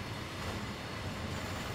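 A long train rumbles steadily in Train Sim World 5, a dense, continuous rolling roar at constant loudness with no talk over it.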